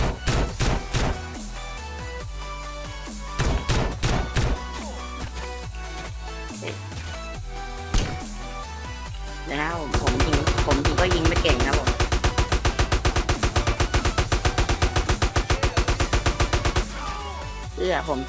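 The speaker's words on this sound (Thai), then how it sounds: "ผมจะลองยิงเขาดูครับ" Gunfire in the video game MTA San Andreas comes as scattered single shots, then a long rapid burst of repeated firing, with game music and a voice talking throughout.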